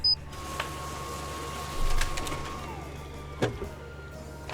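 A photocopier runs in the Gabriel Knight adventure game with a steady low mechanical hum, a brief louder whir near the middle and a sharp clunk toward the end.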